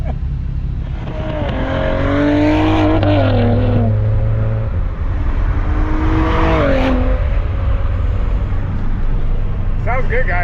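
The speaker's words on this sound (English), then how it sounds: "it has a really good tone for a muffler delete." Cadillac ATS-V twin-turbo V6 with a muffler delete revving twice, each rev climbing sharply then falling, loud and close over a steady idle, with people talking throughout.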